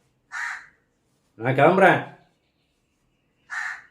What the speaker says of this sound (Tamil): இந்த காக்கா இருக்குல்ல, காக்கா, அதே காக்கான்னு கத்துது